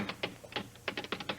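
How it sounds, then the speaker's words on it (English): A typewriter clacks in quick, uneven keystrokes, about a dozen sharp taps over a second and a half, heard close and alone. "Some typewriter."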